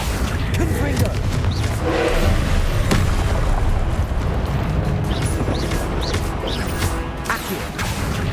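Confringo explosive spell blast in Hogwarts Legacy, a dense, loud blast with crashing debris sustained throughout, layered with whooshing spell effects and game sound under a continuous roar.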